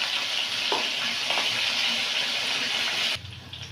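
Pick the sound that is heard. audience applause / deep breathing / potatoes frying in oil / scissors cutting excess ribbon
potatoes frying in oil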